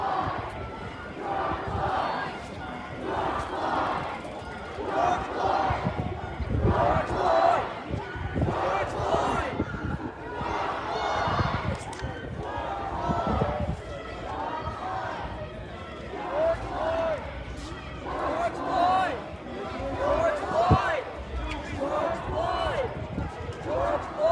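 Protest crowd on the street in Salt Lake City chanting in call-and-response, a leader's call answered by many voices in repeated waves, loud and close, with shouting and other talk mixed in.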